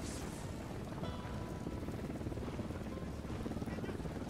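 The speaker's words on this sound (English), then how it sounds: "Helicopter incoming." Helicopter approaching in Ghost Recon Wildlands: a steady, dense low rotor rumble and engine drone fills the scene at constant volume, with no voices over it.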